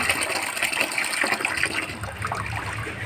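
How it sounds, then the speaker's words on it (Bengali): Water gushes steadily from a hose or can while plants on a rooftop are watered, a continuous splashing rush close by with no talking. "আমি করছি ছাদে গাছে জল দিচ্ছি।"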